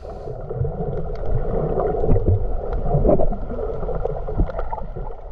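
Ocean water heard underwater while snorkeling over coral in Trunk Bay, St. John, US Virgin Islands: a steady, muffled rushing and gurgling wash, close and continuous with no voices.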